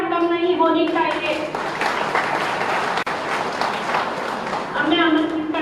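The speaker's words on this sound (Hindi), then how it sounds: "तालियों की गड़गड़ाहट कम नहीं होनी चाहिए।" A crowd at an outdoor BJP election rally in Goa applauds loudly and continuously, a dense wash of clapping from many hands, with a voice talking over it at the start and end.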